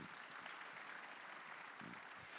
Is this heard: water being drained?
no